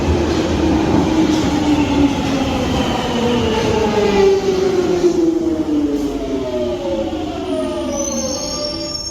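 A loud London Underground Jubilee Line 1996 stock train roars steadily through a tunnel, its motor whine sliding downward in pitch, with high squealing tones near the end.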